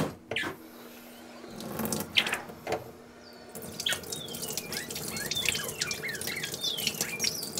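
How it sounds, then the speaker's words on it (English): Water runs and splashes into a sink while washing an injured rhino iguana, broken by drips and clunks, growing busier toward the end. "Just let the force of the water kind of clean this up."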